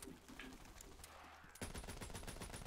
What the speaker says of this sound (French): c'est ça mon fameux fusil d'assaut.